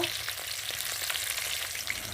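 Pieces of fresh fish fry in hot oil in a home kitchen, giving a steady, close sizzle with small crackles and no voices.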